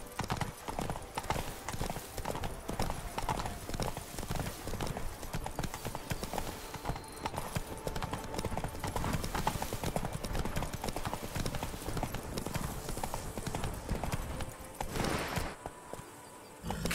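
Horse hooves clip-clopping in The Witcher 3 video game, a steady rhythmic trot heard continuously alongside ambient game sound, with a brief neigh and then a quieter pause near the end.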